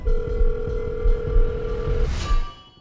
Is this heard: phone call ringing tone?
yes